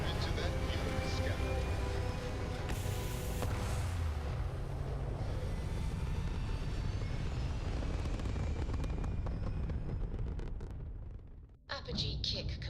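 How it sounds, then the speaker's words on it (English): A spaceship lifting off in Starfield, a loud continuous engine roar with deep rumble and hiss that holds steady, then drops away briefly near the end before a short burst returns; a voice speaks over it. "Liftoff initiated, Captain."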